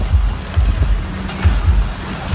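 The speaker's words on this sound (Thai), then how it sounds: "ลมแรงครับ" Strong wind buffets the microphone at an outdoor concert site, a steady low roar with gusting rumbles and rattling, loud and continuous with no voices.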